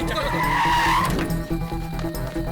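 A car skids hard to a stop in a tense action scene, a loud rising tire screech over a rumbling engine that fades after about a second into a low idle with music-like tones beneath.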